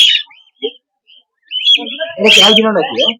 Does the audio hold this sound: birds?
yes